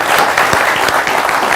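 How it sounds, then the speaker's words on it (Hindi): Hearty applause from a studio audience at an Indian television panel debate, a short loud burst of dense clapping heard alone. "जोरदार तालियां देश के युवाओं के लिए।"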